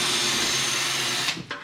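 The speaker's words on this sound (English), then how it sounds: "I guess he's just gonna now try to drill it out" A power drill bores out a part while a new aftermarket Novus exhaust is fitted to a BMW E39, a steady close whine that holds for over a second before cutting off abruptly.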